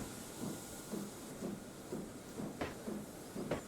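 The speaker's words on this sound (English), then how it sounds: "we have steam effects" A Standard 4MT tank locomotive in the Trainz 22 simulator hisses steam, a soft steady background hiss with evenly spaced rhythmic chuffs and clanks repeating about every half second.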